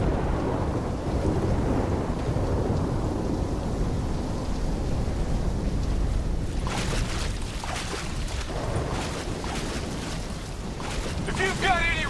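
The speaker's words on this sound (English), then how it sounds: "Incoming Superstorm too strong. Storm's only gonna get worse." A raging superstorm in the Call of Duty Black Ops III campaign, a constant deep rumble of rain and wind with bursts of thunder and crashing water in the second half, with voices breaking in near the end.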